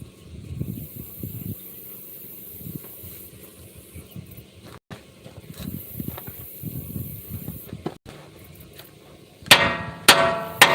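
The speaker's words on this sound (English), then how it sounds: "we'll get a couple wraps with the big hammer" A big hammer strikes metal during cutting and welding work. A few loud, ringing blows land close by near the end, after a stretch of low clunks and rumble.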